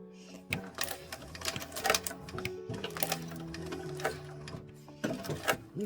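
Sewing machine stitching a bag seam, a close, busy mechanical chatter of rapid needle strokes with tonal motor hum, running in short bursts with brief pauses between them.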